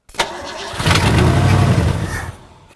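An old Ford engine cranks over on a first start attempt, a short, loud, close churning burst lasting a couple of seconds before it fades, with no talking.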